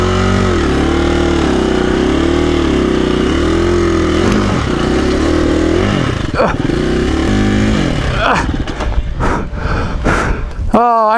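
A KTM dirt bike engine labours close by on a steep hill trail, its pitch rising and falling in rhythmic revs before breaking into rough, uneven bursts of throttle.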